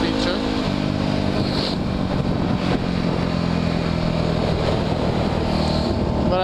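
A Yamaha WR dirt bike engine runs steadily while being ridden, a constant loud drone with slight shifts in pitch, and a rider talking over it.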